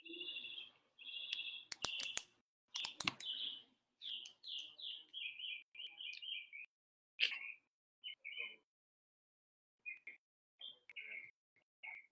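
Small birds chirp and tweet outdoors in short repeated bursts with brief pauses, fairly faint and distant, alongside a few sharper clicks and knocks.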